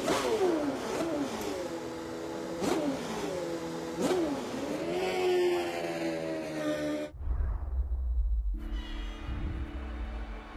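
A Formula 1 car engine in the F1 2012 racing game rises in sharp, repeated revs with gear-shift dips as the car drives out, loud and close. Later it settles into a steadier engine drone.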